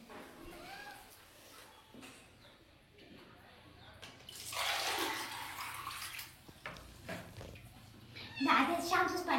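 Water pours and splashes into a bathing tub while shampoo water is mixed for a bath at home, a loud rushing burst midway and again near the end, with talk around it.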